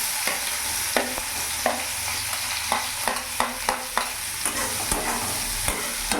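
Onions fry in hot oil on a gas stove, a continuous close sizzle broken by regular scraping and clacking strokes of a spatula stirring the pan.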